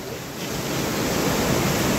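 A broad, constant roar of rushing flood water fills the clip, steady and loud with no pauses or voices.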